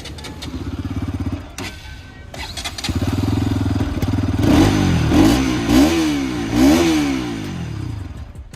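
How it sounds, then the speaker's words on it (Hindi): A motorcycle engine idles with a steady low rumble, then revs repeatedly in several sharp bursts, the exhaust note rising and falling close by. "बाकी दोनों ही बाइक्स की एग्जॉस्ट नोट सुना देता हूँ"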